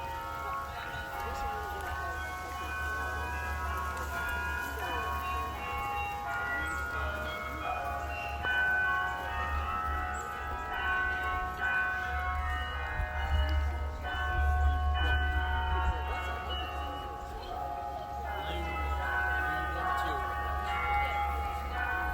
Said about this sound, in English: See if you can pick out some of the other songs that the bell tower is singing